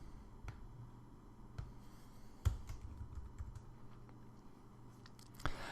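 Keys tapped on a computer keyboard while writing code in Xcode, a few sparse, soft clicks at irregular intervals over quiet background hiss.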